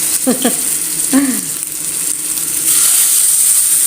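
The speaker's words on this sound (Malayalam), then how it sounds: "ഇത് ലോ ഫ്ലെയിമിൽ നമുക്ക് നല്ലോണം ഉരിച്ച് വറുത്തെടുക്കാം" Mackerel frying on low flame in coconut oil with curry leaves, a steady close hiss and crackle with a few light utensil clinks over it.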